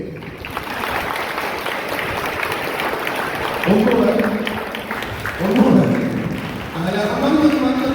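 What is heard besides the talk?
audience applause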